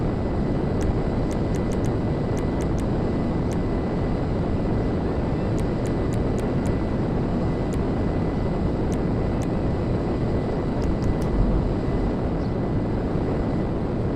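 A fighter jet in the video game GTA 5 Online flies with a steady, loud, broadband engine roar that holds constant throughout, with faint high clicks scattered over it.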